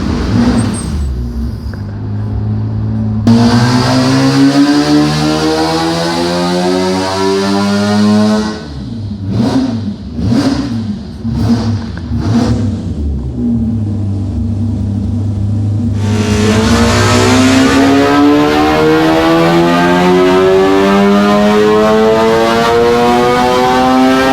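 A four-rotor rotary engine in a Volvo car revs on a dyno, loud and close throughout. Long rising sweeps of engine pitch are broken by a burst of quick blips in the middle, then the engine climbs again in one long pull.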